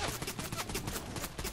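Rapid bursts of automatic gunfire in a Fortnite match, loud and continuous with dense repeated shots throughout, close to the player.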